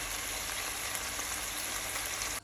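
Chicken breast frying in hot oil in a pan, a steady dense sizzle that holds loud and even throughout, then drops away abruptly at the very end, with no talking.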